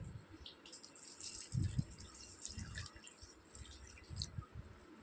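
Milk poured into a cooking mixture, heard as soft, uneven splashing and dripping in short bursts over a quiet background.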